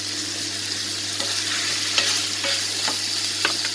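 Steady sizzling of garlic curry sautéing in a pan, with occasional scraping clicks from stirring. No voices.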